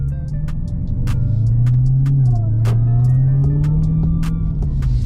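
A supercharged 2020 car with a newly installed LMI intake drives along, its steady, loud engine drone carrying a faint high whine that rises and falls slightly, with a few scattered clicks over the top.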